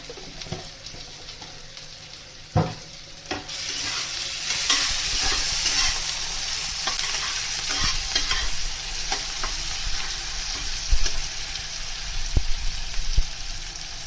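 Chopped tomato and sugar hit a hot pan and fry with a loud, steady sizzle after an initial clunk. Repeated spoon scrapes and taps sound up close as the mixture is stirred, with no talking.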